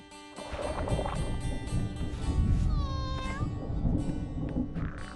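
A cat meows with a rising, drawn-out cry over a busy, noisy background of rumbling and clatter.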